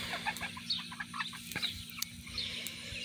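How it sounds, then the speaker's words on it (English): Ducks quack faintly in the background, a scattering of short, soft calls spread across a few seconds against a low steady hum. "Sorry about the noise in the background. It's just my ducks quacking."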